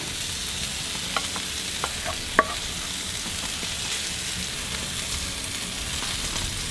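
A green chili and onion mix frying on a cooktop for a cheeseburger, giving a steady hissing sizzle with a few light clicks and one sharper tap partway through.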